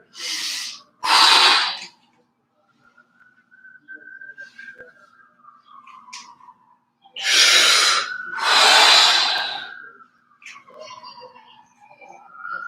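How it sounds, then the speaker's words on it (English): Forceful exhales during a breathing exercise, two pairs of loud, close, breathy pushes of air separated by quieter stretches with a soft voice and a faint whistle-like tone running underneath. "Keep pushing the air out and resting at the bottom of the exhale"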